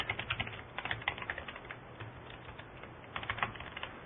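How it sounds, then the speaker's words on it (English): Fast typing on a computer keyboard, a steady stream of light clicking keystrokes in uneven bursts, close and moderately quiet with no speech. "you can type as much as you want in here"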